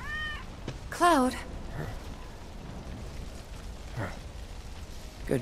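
A cat in the video game Final Fantasy VII Remake gives a loud drawn-out meow, followed by fainter cat calls against a low ambient background.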